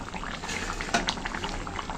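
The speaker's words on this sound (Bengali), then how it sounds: "তরকারিতে কিন্তু সুন্দর জাল উঠে গেছে" Curry with jackfruit and prawns bubbling in a pan, a close, continuous burbling boil with small pops and one brief clink, alone without speech.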